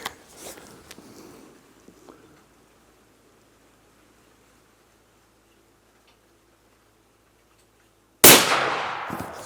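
A Blaser K95 Ultimate Carbon single-shot rifle fires once near the end, a sudden loud, sharp blast with a ringing tail, after light handling clicks and a stretch of near silence.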